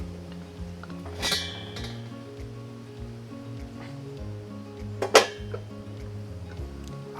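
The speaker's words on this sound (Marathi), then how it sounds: "मी एकदा झाकण उघडून बघतो." A metal lid lifted off a modak steamer pot cooking mango dhondas gives two sharp metallic clinks, one near the start and a louder one later, over a low steady kitchen hum.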